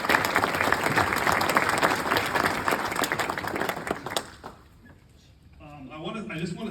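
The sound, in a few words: audience applause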